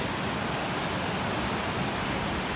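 Floodwater rushes through a rain-swollen creek on a farm under overcast skies, a steady, dense broadband roar with no breaks, close and continuous throughout.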